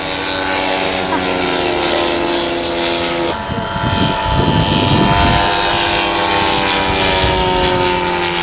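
Scale model propeller aircraft fly at a Battle of Britain weekend airshow in 2011, making a steady, loud engine drone that carries through the whole clip, with a rougher surge of broadband noise partway through.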